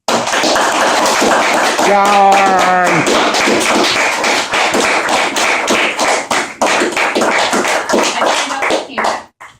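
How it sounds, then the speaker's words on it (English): A classroom audience claps for students after a class talk, a dense patter of hand claps that fades out near the end, with a brief voice rising over it early on. "Let's give them a round of applause"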